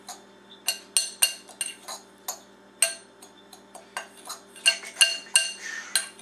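Spoon or utensil clinking against a bowl while grated Parmesan mixture is stirred for chicken Parmesan, a series of close, irregular scraping clinks and taps with no talk.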